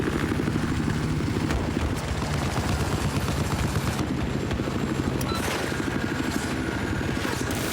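A military helicopter in Battlefield 4 Conquest thrums with a steady, loud rotor chop throughout, with scattered gunfire crackling in the background.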